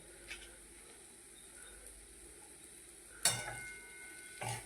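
Amaranth greens (tandalja bhaji) being stirred in a pan, heard as faint, sparse scrapes and a couple of brief clatters against a quiet kitchen background.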